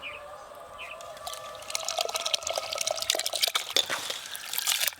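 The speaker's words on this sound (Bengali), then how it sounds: "জল গরম হয়ে গেছে, ধুয়ে রাখা চালগুলো দিয়ে দেব।" Washed rice being tipped into a pot of hot water, a soft wet pouring and dripping rustle that builds in the second half, with faint birdsong outdoors in the background.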